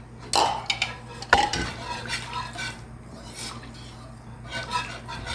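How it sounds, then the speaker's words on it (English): A flour-thickened sauce being stirred in a pot of softened onions and garlic, with close spoon scrapes and clinks against the metal, a few sharp knocks, and soft stirring in between. "just keep stirring that so the flour doesn't clump up and it gets thickened"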